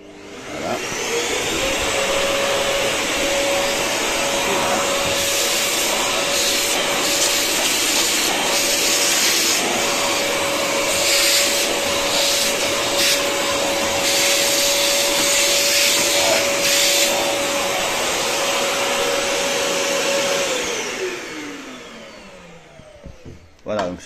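Vacuum suction from a steam cleaner used against bedbugs runs close and loud for about twenty seconds, a steady rushing roar with a sustained motor whine, starting and winding down smoothly.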